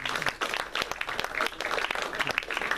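Audience applause for participants at an evening hypnosis show, dense crowd clapping continuing steadily throughout without any talk.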